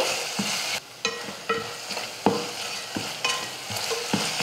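Tomatoes with asafoetida and turmeric sizzle in a pan while a utensil stirs and scrapes them in irregular strokes, close and fairly loud.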